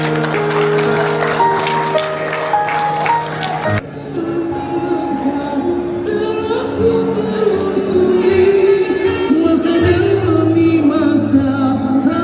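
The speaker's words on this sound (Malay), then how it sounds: "Berikan tepukan untuk Freedom Tasha." Audience applause for Freedom Tasya at a speaking event, a loud sustained wash of clapping that swells and holds steady, with music underneath at the start.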